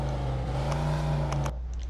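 The Jefferson car in the Mafia 2 video game gives a steady, close engine drone for about one and a half seconds, then the sound drops away abruptly to a quieter hum.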